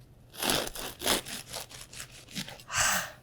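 Crackly rhythmic sawing of a knife through crusty bread, several back-and-forth strokes, close and crisp.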